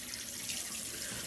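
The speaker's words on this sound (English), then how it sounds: "So here's my warm water to open up my pores" Warm water running from a bathroom tap into a sink, a steady hissing splash that stays even throughout, close by and with no talking.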